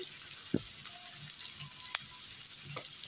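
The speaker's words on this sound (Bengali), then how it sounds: "তেলটা গরম হয়েছে, এখন পেঁয়াজগুলো দিয়ে দিব এখন দারচিনি এলাচি।" Onions going into hot oil with cinnamon and cardamom sizzle softly in a pan, with a few brief louder crackles and scrapes over a steady low hiss, no talking.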